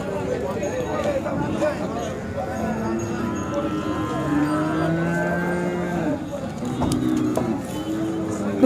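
Khillar cows at a cattle market low repeatedly, long drawn moos rising and falling amid crowd chatter and people talking nearby.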